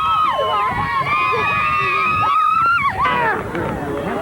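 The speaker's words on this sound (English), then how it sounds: "A lot of cheering." Kids crowded around a 1985 junior high push cart race in San Bruno, California cheer and shout, a lively babble of high voices rising and falling throughout, with someone talking close by.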